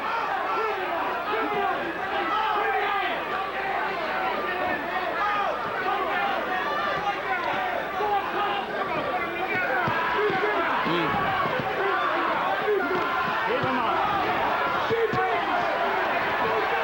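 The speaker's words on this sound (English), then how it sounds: "The crowd chanting Micheal in his home stadium." Packed home stadium crowd roars and chants for boxer Michael Nunn during his bout with James Toney, a dense, continuous wall of voices with rhythmic swells and no break throughout.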